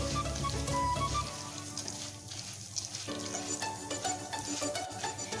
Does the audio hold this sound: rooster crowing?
no